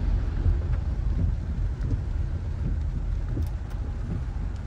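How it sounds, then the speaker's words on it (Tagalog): Heavy rain drums steadily on a car while driving, with a deep rumbling wash beneath it that suggests thunder, continuous and loud, with no talking. "Sabi, malakas yung ulan mga kasyo."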